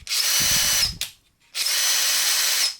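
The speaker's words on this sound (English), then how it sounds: "Let's test this impact driver. See what it sounds like." Ridgid 18V sub-compact brushless impact driver run free in two bursts of steady high-pitched motor whine, each about a second long, with a short pause between, loud and close.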